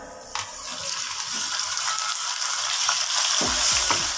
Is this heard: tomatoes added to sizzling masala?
yes